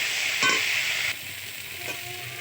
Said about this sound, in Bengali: বাসি মাংস ভাজা।